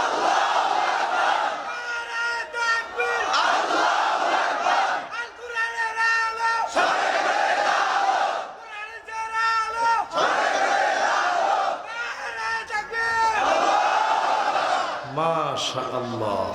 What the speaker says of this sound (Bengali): একজন জোরে তাকবীর দেন মাঝখান থেকে